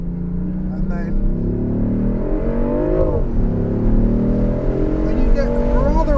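A 2019 BMW i8 Roadster's petrol engine revs and builds speed, a steady droning roar that swells slightly, with wind and road noise mixed in.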